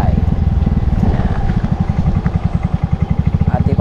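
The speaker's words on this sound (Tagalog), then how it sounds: "at ipaparking na natin ang ating motor kasi hindi na ito gagamitin." A motorcycle engine idling close by while being parked at a house, a steady low rapid chugging throb that runs throughout, with a person talking over it.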